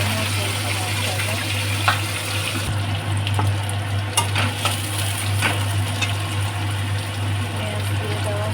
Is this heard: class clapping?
no